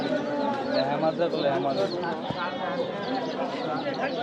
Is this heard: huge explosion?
no